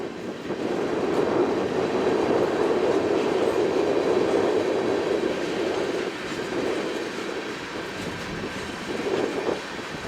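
A CN eastbound freight train with tank cars on fresh wheels rolls steadily past near the Waterloo yard in Iowa, slowing down, a loud continuous rumble with rhythmic clickety-clack of wheels over rail joints and no talk.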